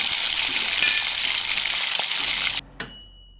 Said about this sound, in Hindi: ये कैसी अजीब सी आवाज़ें आ रही है, मानो कोई कोई किचन में काम कर रहा हो